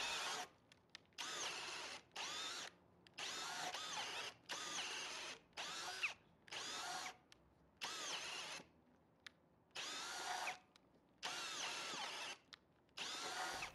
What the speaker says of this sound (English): they'll be drilling with the Irwin Speedbore Max 1¼ inch bit, but also on the speed 2 setting